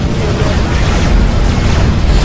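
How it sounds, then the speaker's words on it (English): Units blow up in rapid succession in a real-time strategy video game, producing a dense, loud, rumbling barrage of booms and bursts that runs without a break. "he just sucks in units and they explode"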